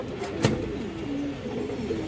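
Pigeons kept for sale cooing softly, a low steady murmur of coos throughout with one sharp clatter near the start and faint traffic behind.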